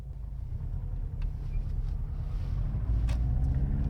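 A Subaru car driving at night, a low steady engine and road rumble from inside the cabin, continuous and moderate in level with no talk.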